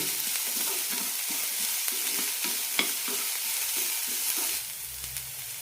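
Sliced onions sauté in a pan with curry leaves, a continuous soft sizzle with scraping stir strokes in a regular rhythm, close and steady, easing slightly near the end.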